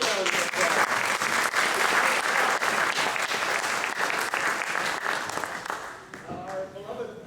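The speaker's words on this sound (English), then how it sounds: "Let's give him a big round of applause." A big round of applause from a club meeting audience, dense sustained clapping that thins out near the end as a voice starts speaking.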